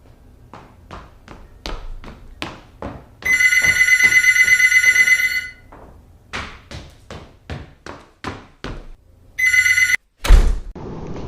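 A telephone rings loudly in two bursts, a long electronic trill and then a shorter one, amid a series of sharp taps and a thud.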